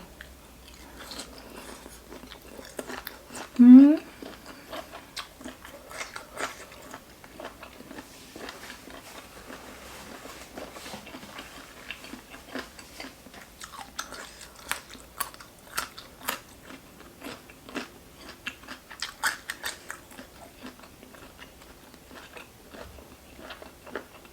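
Crunchy chewing of giant cuttlefish tentacles dressed in spicy seafood sauce, steady close bites and crisp crunches repeating throughout, with a brief vocal squeak early on.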